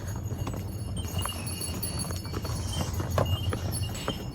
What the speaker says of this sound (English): So it's me and some donkeys here in Santorini.